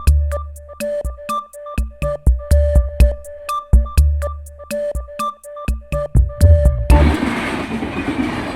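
A train passes on the railway with a loud, rhythmic clickety-clack of wheels over rail joints, then fades into a broad rushing rumble near the end.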